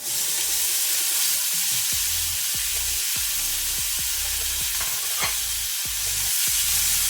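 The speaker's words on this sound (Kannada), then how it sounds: "ಈರುಳ್ಳಿಯನ್ನು ಸಹ ಫ್ರೈ ಮಾಡ್ಕೊಳ್ಳೋಣ." Onion fries with garlic in a hot pan, a dense continuous sizzle close up, broken by occasional soft stirring knocks and scrapes, with no voices.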